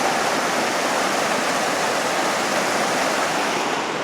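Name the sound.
Boxley Creek water flowing under a bridge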